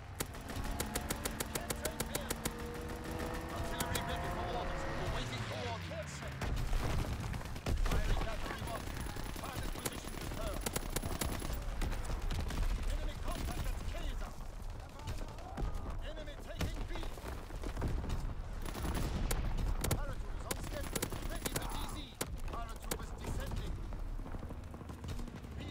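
Rapid automatic gunfire from an aircraft strafing run in a real-time strategy video game, a dense continuous rattle of shots and booms lasting throughout, with a brief synthetic voice line at the start.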